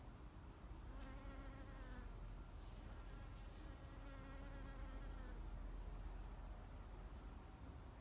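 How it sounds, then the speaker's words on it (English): A bee buzzes close by while pollinating avocado flowers, its drone rising and fading in a few passes over steady outdoor background noise, with no voices. "Check out this bee that's pollinating the flowers behind me."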